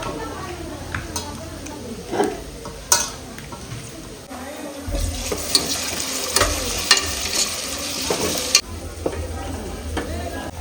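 Onions and green chillies stirred and sizzling in a hot pan while cooking country chicken curry, with steady frying crackle and scraping spoon strokes throughout, close and moderately loud.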